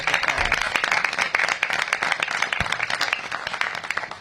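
Audience applause for Jeremiah at a public event unveiling Washington DC's comeback plan, a steady crowd clapping throughout with no voices over it.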